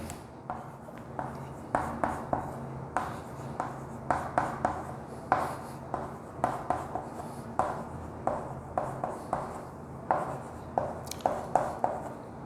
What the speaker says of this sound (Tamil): இப்போ நாங்கள் லெஃப்டில் எழுதுகிறேன்